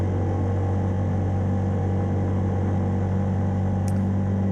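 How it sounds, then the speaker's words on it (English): An old ATV quad engine runs flat out in fifth gear across the frozen surface of Lake Couchiching, a steady, loud, droning rumble that holds constant with no talk over it. "I think I'm in 5th gear at this point, and I'm going probably as fast as this old quad can go"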